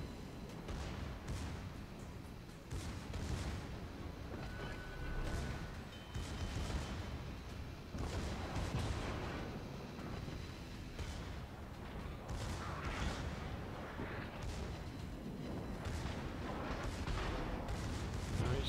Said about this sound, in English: He's got his guns going again.